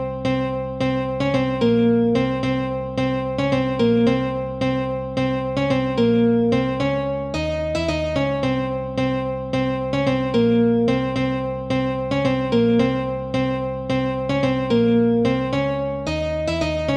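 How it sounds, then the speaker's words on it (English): Layered melody from classic acoustic guitar and Ibanez guitar voices in an FL Studio beat for KGF-style background music, playing steady repeated plucked notes with a dense, loud, continuous texture and no talking. "I am using classic acoustic and Ibanez for the melody."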